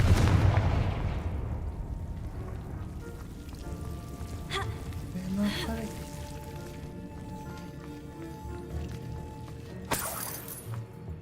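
A Confringo fire spell in Hogwarts Legacy blasts with a loud booming impact at the start that rumbles and fades, followed by scattered crackles, faint magical tones and another sharp hit near the end.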